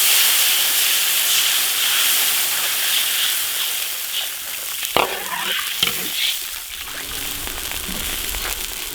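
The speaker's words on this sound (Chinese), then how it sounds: "火锅底料来一坨， 炒香加水。" Hotpot base stir-fried in a wok, a loud steady hissing sizzle with scraping stirs, then a sharp burst and bubbling as water is poured in, settling back into hiss.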